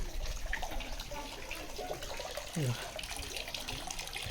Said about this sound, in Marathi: गोमुखातून पाणी पडतं आहे.